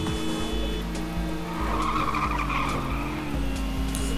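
Cars in the Little Racers Street racing video game drifting, with sustained loud tire squeals and skidding over a constant engine drone, joined by occasional squeal bursts and with no talking.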